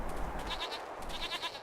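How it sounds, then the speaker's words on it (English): Goats in the Jade Empire video game bleat in short wavering bursts, a brief cluster of calls heard loud and near over a noisy game ambience. "Goats."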